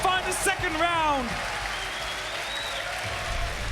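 A crowd at a Six Major Berlin 2022 esports arena match applauds and cheers loudly, the ovation carrying under a commentator's voice before settling into steady clapping.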